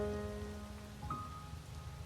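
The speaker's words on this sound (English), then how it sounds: "listening to the sound of raindrops as they hit the cement" Rain falls on cement in the Spell Candle game demo, a steady soft patter of drops over a low rumbling bed, faint and continuous, with a brief tonal chime partway through.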